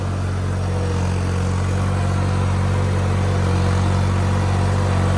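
A steady motor drone from a water pump motor and a laser land leveler running in a farm field, a continuous low hum at constant level throughout with no voices.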